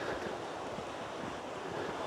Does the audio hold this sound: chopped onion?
no